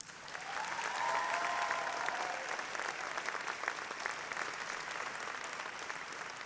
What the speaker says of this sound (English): while we recognize her with our applause